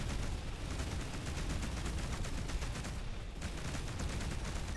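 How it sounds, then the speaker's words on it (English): Rapid-fire spaceship guns in the space game Between the Stars, a dense, continuous stream of quick, loud shots that keeps going with only a brief dip partway through. "Oh, it's not missiles, it's fast shooting."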